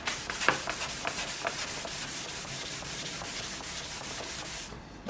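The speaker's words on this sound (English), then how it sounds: "the sanding really helps to get you started." Rhythmic back-and-forth sanding strokes rasp across a wooden guitar top before French polishing, steady and close, continuing for several seconds before stopping.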